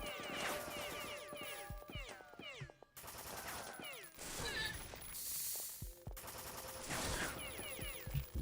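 Chain gun firing in the video game The Citadel, dense rapid bursts of automatic gunfire with mechanical clatter, loud and continuous with brief pauses between volleys.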